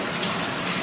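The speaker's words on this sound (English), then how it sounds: "I can get a cold shower in" Cold shower water runs in a steady, loud, close hiss that holds evenly throughout, with no voices.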